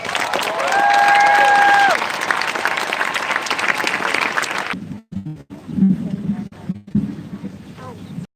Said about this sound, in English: give another round of applause for Tayona Haley.